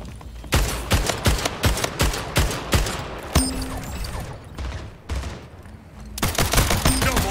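Pistol and assault rifle fire in Splitgate: a quick run of sharp, loud shots in steady rhythm, a pause with faint mechanical clatter, then another burst of rapid fire near the end.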